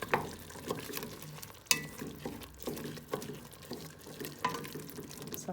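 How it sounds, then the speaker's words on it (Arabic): A spoon scrapes and stirs spices such as cinnamon, coriander seed and cumin into a pot of cow trotters with chickpeas, giving a continuous close, wet churning with light clinks and a soft sizzle. "صافي ونخلطها هكا مزيان"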